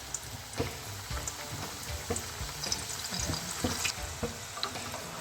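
Puri paratha fries in hot oil in a pan, giving a continuous crackling sizzle with scattered small pops and bubbling, steady and close throughout.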